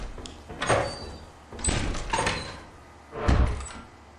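A door opening in the video game Avowed, heard as three separate thudding, rumbling movements with a creak of wood and metal, the last one heaviest and closest.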